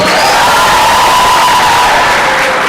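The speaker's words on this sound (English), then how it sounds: "Give yourselves a round of applause." A crowd at a national science and technology exhibition erupts in loud cheering and whooping with applause, a sustained roar of many voices shouting together close by.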